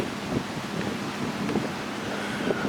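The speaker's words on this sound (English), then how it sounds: "This probably got some serious wind going on." Strong wind sweeps across a lake at a marina at Kimberling, Missouri, buffeting the microphone in a steady, close, rumbling roar with gusty surges and faint water sounds beneath, no voices.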